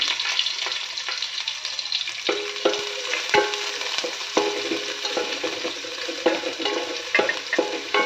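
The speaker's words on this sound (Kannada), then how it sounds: "ಅದಾದಮೇಲೆ ಈರುಳ್ಳಿ ಹೆಚ್ಚಿಟ್ಕೊಂಡಿದ್ದನ್ನು ಹಾಕ್ಕೊಳ್ಳಿ." Chopped onions sizzle and crackle steadily in a hot pan for a fish curry, with a continuous close frying hiss and occasional stirring scrapes and pops, no talking.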